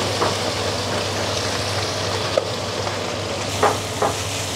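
Rohu fish fries in hot oil, producing a steady, close sizzle with a low hum beneath and a few sharp pops and crackles toward the end, with no talking.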